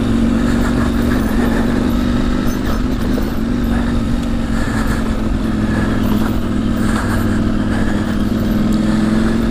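KTM 790 Adventure motorcycle on a trail near Claerwen Reservoir, a steady loud engine drone with wind rush running throughout and no voices.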